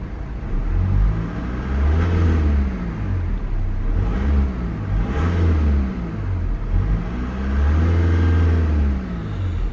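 A 2012 Volkswagen Passat Alltrack 2.0 TDI Bluemotion Tech 4Motion diesel is revved against a 2,500 RPM limiter, three or four rising blips, each climbing, holding and dropping back to idle, close and fairly loud.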